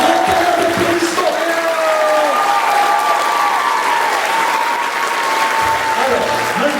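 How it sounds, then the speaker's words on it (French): Audience applause at a stage show, a loud, dense wash of clapping that holds steady for several seconds, with a few tonal sounds threaded through it. "S'il vous plaît, grand tonnerre d'applaudissements"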